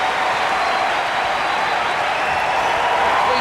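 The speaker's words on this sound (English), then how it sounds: "the crowd giving the team a big ovation" Dense, sustained applause and ovation from an arena crowd at a UCLA versus North Carolina college basketball game, loud and continuous throughout.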